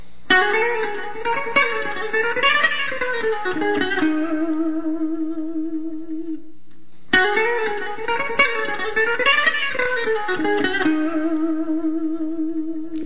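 An electric guitar with effects plays a quick run of notes that ends on a sustained tone, then repeats the same phrase after a pause.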